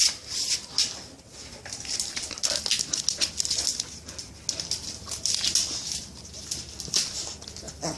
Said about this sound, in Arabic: كاتش هيعضك يا كلب